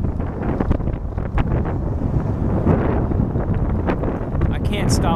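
Strong outdoor wind buffeting the microphone in loud, continuous gusts, with rumbling low roar and a voice talking underneath.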